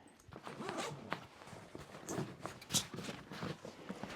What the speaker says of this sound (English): we just unpopper it and open the zips